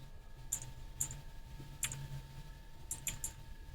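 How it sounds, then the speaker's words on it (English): Sparse keyboard clicks in small bursts, a few quick keystrokes at a time, soft and close under a steady low hum while playing a game. "you guys can hear a little bit of clicking from my keyboard"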